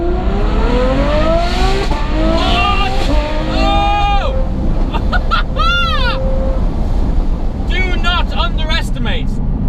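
Novitec N-Largo Ferrari F12 engine with the windows cracked open: a loud rising rev sweep that builds over several seconds, then settles under a steady drone, with a voice and sharp chirping sounds over it.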